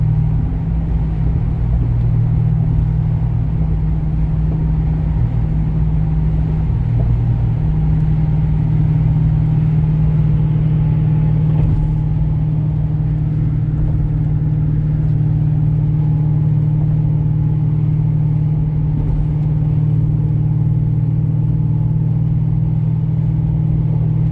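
Car with 373 rear gears and a 4-speed transmission climbing Kentucky mountain roads: a loud, steady low engine drone and road rumble heard from inside the cabin, continuous and unbroken for over twenty seconds with no talking.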